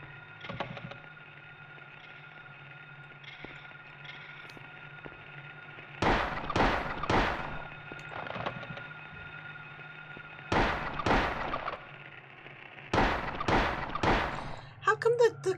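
Cockroach enemies from the PS1 Silent Hill game give off sharp, loud crackling bursts in clustered groups over a steady droning ambient hum, with several bursts in quick succession toward the end.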